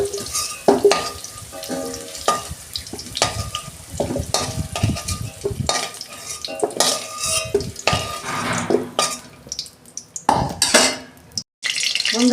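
Cauliflower pieces frying in hot oil in a home kitchen after potatoes, with steady close sizzling, repeated stirring and clinking of a utensil against the pan throughout.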